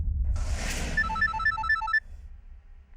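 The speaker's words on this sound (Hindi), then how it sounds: "आपका फोन बज रहा है।" A telephone rings in a quick repeating electronic trill, a short burst of tones over a low background hum, then stops and the hum continues.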